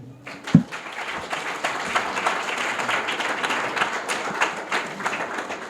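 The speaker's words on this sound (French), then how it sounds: "Je voudrais que vous applaudissiez particulièrement Madame Irène Nobimé." A hall audience at an academic anniversary ceremony breaks into sustained applause after a sharp thump, the clapping dense and even, with a few voices faintly beneath.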